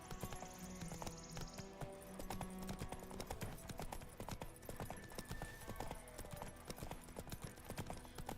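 The horse Roach's hooves in The Witcher 3, a quiet, fast, continuous clip-clop of galloping with faint tones in the background.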